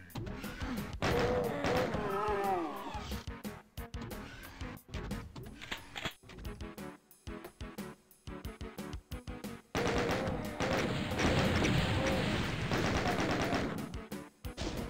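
Rapid gunfire from the video game Doom rattles in long loud automatic bursts, broken by short gaps and resuming in dense, continuous volleys through to the end.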